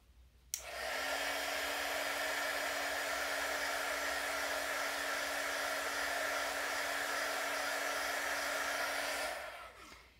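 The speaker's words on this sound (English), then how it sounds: "I'm going to just hit this with my heat tool real quick" A heat tool blows over ink on a silicone mat, switching on abruptly and roaring as a steady, close, loud whoosh with a constant hum for about nine seconds before cutting off and winding down.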